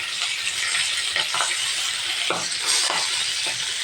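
Fish fries in a pan with a continuous close sizzle, broken by a few light clinks and scrapes of a utensil, and no one speaks.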